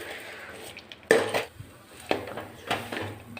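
A metal lota presses dates and dry fruits down in a pan for a winter peanut-and-date sweet made with ghee, giving a few sharp metallic clinks and knocks at irregular intervals, close and moderately loud.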